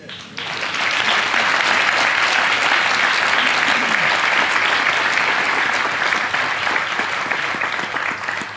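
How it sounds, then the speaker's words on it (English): An audience at a school's 60th anniversary celebration breaks into loud, sustained applause for the performances, a dense wash of clapping that swells in quickly and holds steady for several seconds. "I just want us to applaud the performances."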